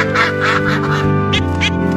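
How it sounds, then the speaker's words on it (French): Loud, nasal duck quacks repeat in quick bursts, close by, filling the whole moment with no talking. "Regardez, il y a une famille de canards."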